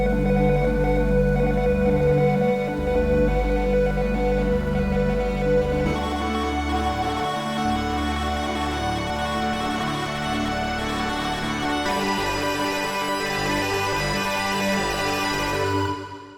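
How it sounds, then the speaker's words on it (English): Arpeggiated ambient pad from a wavetable synthesizer using unusual wavetable playback modes, a sustained harmonic chord with a shimmering pulse that changes timbre every few seconds and fades out at the end. "we'll be creating an arpeggiated pad sound that sounds like this"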